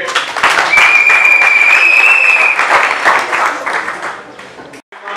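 An audience at an association open house applauds a new member, a loud dense wash of clapping with a whistle on top early on, dropping off briefly near the end before picking up again.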